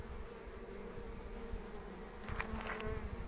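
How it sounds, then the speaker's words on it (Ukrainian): A bee carrying pollen hums in a continuous low buzz nearby, growing slightly louder and rougher toward the end. "Дивіться, сидить бджола, бджола з пилком."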